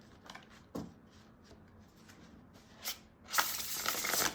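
A deck of Uno With The Sun cards being shuffled by hand, with faint soft riffles early on and a louder, denser burst of rapid card flutter at the end, no talk over it.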